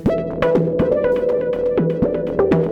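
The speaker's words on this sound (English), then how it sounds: "So I have a very long reverb tail and it kind of just blurs everything out." Elektron groovebox pattern, Syntakt or Digitone, drenched in a very long reverb tail: repeating synth notes and pitch sweeps smear into a continuous dense wash, steady and loud with no voices.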